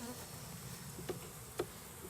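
A honeybee swarm being hived into a deep box with frames gives a steady, faint buzzing drone, broken by two brief louder passes of single bees flying close by.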